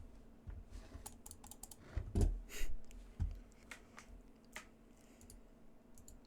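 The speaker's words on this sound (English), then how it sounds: "You can probably hear me clicking my mouse." A computer mouse clicks close by during a game, giving a handful of sharp taps, the loudest near the middle, set against a soft background hum with no speech.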